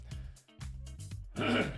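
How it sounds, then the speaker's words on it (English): A man clears his throat with a short, near, gravelly rasp in two or three quick pushes, quiet and close to the microphone. "I had to clear my throat there"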